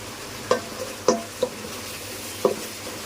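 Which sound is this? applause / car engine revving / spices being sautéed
spices being sautéed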